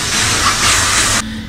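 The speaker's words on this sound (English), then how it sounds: "After proceeding to spray my room," An aerosol spray can hisses in a loud, continuous blast as a room is sprayed, then cuts off abruptly near the end, leaving a quieter background.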